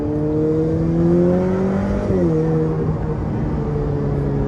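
A Ferrari F8 Tributo V8 revs hard and loud, its rising engine tone breaking at a gear shift near the middle and then settling again into a steady, sustained drone.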